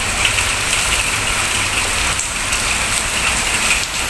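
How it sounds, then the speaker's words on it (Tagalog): Steady rain pours down outdoors with a dense, even hiss, and a faint engine idles somewhere beneath it for the whole stretch. "Ayan, umuulan oh."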